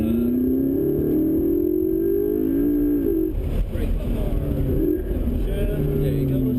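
A McLaren supercar accelerating on a track at a driving event: a loud, droning engine tone rises in pitch, dips and rises again, heard up close from inside with a voice talking over it.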